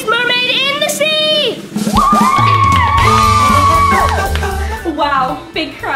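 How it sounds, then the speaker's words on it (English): A cartoon crowd cheering, whooping and shouting loudly at a mermaid comedy show, voices rising and falling in excited bursts over a short stretch. "Wow, big crowd"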